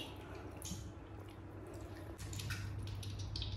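Wet, squishy squeezing as water is pressed out of homemade dough in a kadhai, with soft drips and squelches repeating steadily up close.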